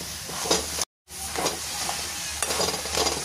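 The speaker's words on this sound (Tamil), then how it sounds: "இப்போ எல்லாத்தையும் நல்லா கலந்து விடுவோம்." Pakoda mixture with ground boiled chickpeas being stirred and mixed by hand in a bowl, soft scraping and squelching strokes repeating close up, alone with no talk.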